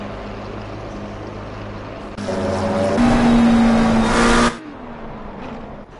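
GT3 race car engines in a sim racing game at Kyalami during a one-hour league race drone steadily, then one car's engine swells into a louder, brighter whine for a couple of seconds before dropping back to a lower hum.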